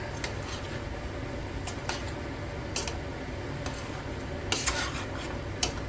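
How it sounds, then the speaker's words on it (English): Pheasant corn chowder ingredients being stirred and tossed in a pan make a soft continuous scraping and sizzle, with occasional light clinks of the utensil against the pan, close and without talk. "I'm just going to keep tossing it and stirring it so it doesn't stick and burn on the bottom"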